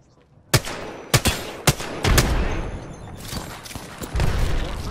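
Gunfire in the Apex Legends video game: four distinct shots at roughly half-second intervals, followed by a rumbling burst of continued fire, loud and close, with no talking.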